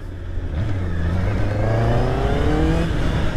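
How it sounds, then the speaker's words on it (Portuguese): A 2024 Honda CB650R four-cylinder motorcycle engine revs up close and loud, its pitch climbing smoothly through a sustained rise and holding high, with no talk over it. "E o somzinho dos quatro cilindros"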